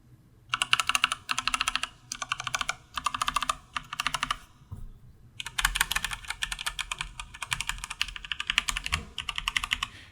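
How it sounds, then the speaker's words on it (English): Mechanical keyboard with Cherry Speed Silver and Kailh Pro Burgundy switches, the Cherry paired with ABS keycaps, clatters through two bursts of rapid, close alpha-key typing separated by a brief pause. "let's do a basic sound test of the alpha keys and compare the two"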